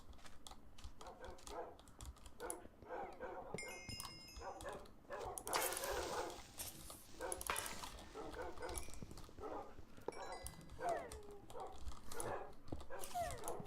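Tamed wolf dogs in the Minecraft Crash Landing modpack bark and whimper in short, repeated bursts, mixed with steady computer keyboard typing and clicking at low overall level.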